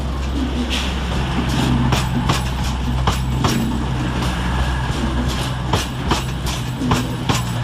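Cross-country trains 220004 and 221144 pull away from Manchester Piccadilly, a steady low rumble with recurring clicks and clatter of wheels over rail joints, fairly close and continuous throughout.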